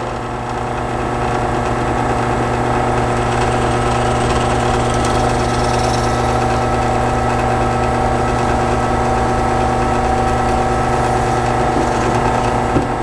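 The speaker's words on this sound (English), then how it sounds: "And drill all the way through." A power drill runs steadily for the whole stretch, drilling through a metal blade, a constant droning motor whine with no pauses.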